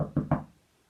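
Three quick knocks on a door, a sound effect within a read-aloud children's story, close and hollow-sounding, then quickly fading to quiet.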